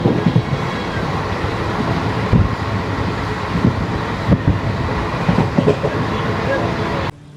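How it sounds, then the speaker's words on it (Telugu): A 22136 Renigunta–Mysuru weekly superfast express train runs along at speed, with a steady loud rumble of wagons and rhythmic clickety-clack wheel beats heard from on board, ending abruptly. "మన ట్రైన్ చూడండి ఈ పక్కలనికి అయితే కట్ అవుతుంది."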